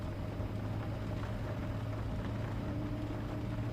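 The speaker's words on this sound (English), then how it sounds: "And you can see the engines are now spooling." Jet engines of an Embraer E170 spool up in X-Plane 12, a steady dense roar with a low hum and a faint whine held at even loudness throughout.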